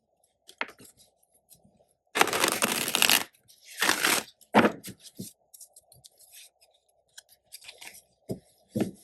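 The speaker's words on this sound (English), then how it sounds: "I generally split my cards up into little piles that I can shuffle more easily." Tarot cards are shuffled in small piles in a few loud riffling bursts, with softer handling taps and rustles between them, close and otherwise quiet.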